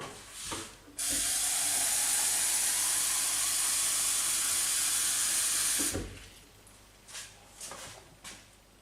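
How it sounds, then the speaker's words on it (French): Lukewarm water poured from a tap to dilute honey as bee feed, a steady loud rushing hiss lasting about five seconds, preceded and followed by brief quieter handling noises. "Je mets de l'eau tiède pour diluer plus facilement le miel."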